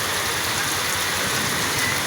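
Steady rain hisses down on a football game in a constant, dense wash of noise, fairly loud and close, with no voices.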